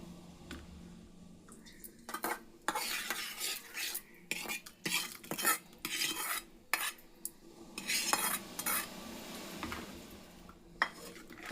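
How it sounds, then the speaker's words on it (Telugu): A metal spoon stirs tempering into a pot of raw tamarind stew, scraping and clinking against the vessel in irregular bursts, close and fairly quiet. "మనం వేసుకున్న తాలింపుని కూడా దీనిలోకి వేసేసుకుందాం"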